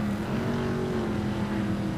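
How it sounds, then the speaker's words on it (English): Cadillac and Kia race cars revving on the grid at Laguna Seca in the iRacing simulator, a loud, sustained engine drone with a steady pitch and slight wavering, filling the whole moment without speech. "As they're revving them up, getting ready to go at Laguna Seca"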